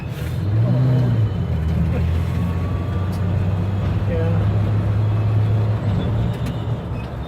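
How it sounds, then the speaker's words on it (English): A 1960s Chevrolet C10 pickup with a three-speed manual gearbox drives along, its engine droning loudly and steadily inside the cab with a shift in pitch, while people talk over it. "I'm driving a stick shift with the 3-speed"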